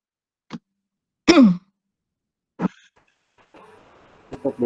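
A man who is feeling unwell clears his throat during a digital circuits lecture: three or four short, separate rasping hems in a quiet room, then faint shuffling and small knocks.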